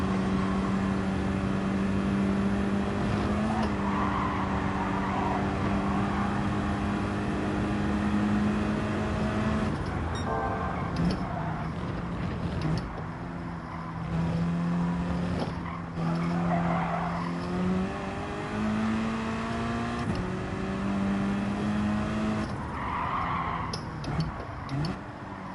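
Volkswagen Scirocco race car lapping a circuit in Gran Turismo 7, its engine droning steadily with pitch rising and falling through gear changes, plus recurring tire squeal and skidding, loud and continuous throughout.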